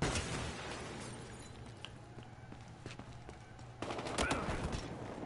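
Gunfire in the video game Battlefield Hardline, a steady rattle of shots running throughout and swelling louder near the end, with no talk over it.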